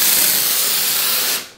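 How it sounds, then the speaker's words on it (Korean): Spray foam hisses steadily from an aerosol can during interior renovation work, a loud continuous broadband jet lasting over a second before cutting off and tailing away, with no talk. "자, 폼 스프레이를 써볼게요."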